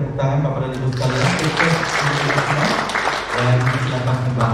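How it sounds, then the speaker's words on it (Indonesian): Audience applause at an Indonesian hotel and restaurant association regional meeting: a steady, dense wash of clapping throughout, with voices and tonal background sound running underneath. "kita berikan tepuk tangan kepada Ibu sekalian"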